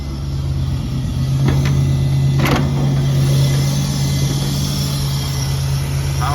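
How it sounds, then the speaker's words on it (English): LS-powered 1952 GMC 100 short-bed shop truck idling, its exhaust a steady deep loud rumble held close and constant, with a couple of faint brief clicks along the way. "Nice sounding exhaust."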